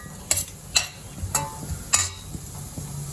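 Banana flower being sautéed and stirred in a pan, with a soft continuous sizzle under a few distinct scraping strokes of a spoon against the pan, close and fairly quiet.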